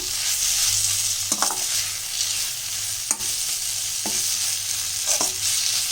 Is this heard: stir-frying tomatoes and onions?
yes